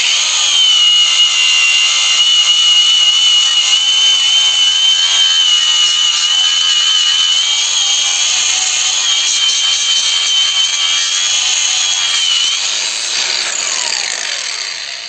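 A DRIVAK AG001 cordless angle grinder runs continuously while grinding, giving a loud, close, high-pitched whine that holds steady and then tapers slightly toward the end.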